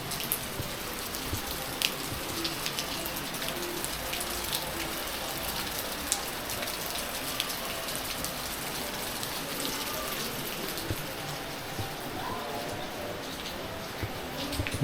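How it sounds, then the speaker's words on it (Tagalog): Heavy, unbroken rainfall pours down in a rural province, a steady dense hiss of rain on surfaces across the whole stretch, with faint drip details and occasional soft voices underneath. "Grabe ang ulan. Tuloy-tuloy."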